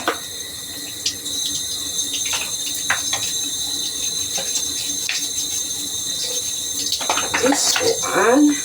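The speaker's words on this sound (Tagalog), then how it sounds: "I will need to remove this one with running water and use this brush" Tap water runs steadily into a sink while a vacuum cleaner head is rinsed, with intermittent scrubbing and clatter, louder splashing near the end, and a person talking over it.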